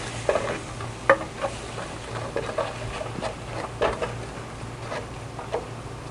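A butter and flour roux cooks in a pan while being stirred, giving soft, quiet scraping and gentle bubbling with a few light knocks against the pan, no voices.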